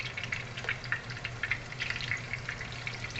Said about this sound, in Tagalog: I-fried muna natin yung onion bago yung beef.